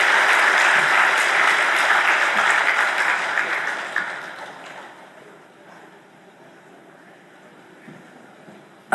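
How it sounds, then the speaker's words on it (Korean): Applause from a church congregation after a closing prayer, a loud dense burst of clapping that fades over several seconds into quiet room noise. "우리 큰 박수 부탁합니다."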